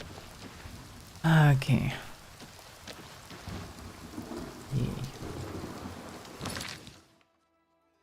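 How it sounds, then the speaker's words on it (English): Rain and rolling thunder in the video game The Elder Scrolls IV: Oblivion Remastered, with a loud thunder crack early on and steady rainfall beneath; someone speaks briefly over the storm. "Despite the rain. I mean, rain suits this place, I guess."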